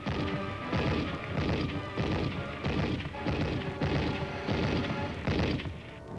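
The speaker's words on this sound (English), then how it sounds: "A recoilless rifle is brought into action against the stubborn resistance." Recoilless rifle and other weapons fire in Korean War combat, 1951: a run of heavy, booming blasts spaced about a second apart, loud and reverberant, with a low droning background throughout.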